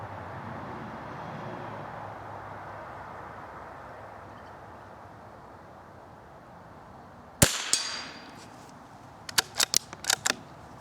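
Marlin XT-22 .22 rifle firing at a target outdoors, a single sharp crack with an echo, then a cluster of quick clicks from the rifle's action, all over a quiet background of wind.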